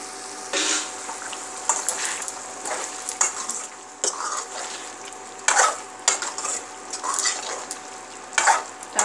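Bottle gourd (lauki) fries in a pan for an Odia curry, a soft steady sizzle broken by scraping spatula strokes and metal clinks of stirring at irregular intervals, close and fairly quiet, no talk.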